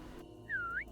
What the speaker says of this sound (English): I suddenly heard a high-pitched whistle.